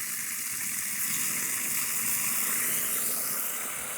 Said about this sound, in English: Now we have water on tap here